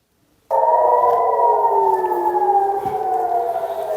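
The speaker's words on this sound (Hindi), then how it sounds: "Siren heard in Haifa after the launch of ballistic missile by Iran." An air raid siren wails across Haifa after an Iranian ballistic missile launch. It starts abruptly from silence and holds a loud, sustained tone that slowly bends downward in pitch.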